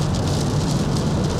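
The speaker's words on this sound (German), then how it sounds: "Der Regen hier, es sah doch gerade hell aus." Rain falls on a Kia EV9 electric car driving on the Autobahn, a dense, continuous hiss and patter blended with road noise, heard from inside the car.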